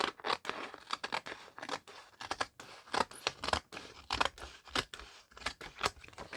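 Scissors cut through paper, likely journal paper, with a steady run of sharp, close snips and crisp slicing, each cut followed by a short pause.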